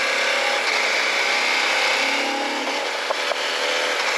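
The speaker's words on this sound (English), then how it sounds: "This is what an Africa twin sounds like, I feel like. Big parallel twin." A CF-Moto Ibex 800 parallel twin motorcycle engine runs steadily, a loud continuous buzzing drone with a couple of brief clunks near the end.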